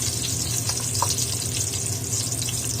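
Sliced onions and ginger fry in hot oil in a pan, giving a continuous, even hiss of sizzling at close range with no break.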